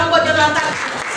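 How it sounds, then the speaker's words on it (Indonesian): Classroom applause for a student named Jonathan, a dense burst of clapping with voices mixed in, loud and close for about a second. "tepuk tangan buat Jonathan"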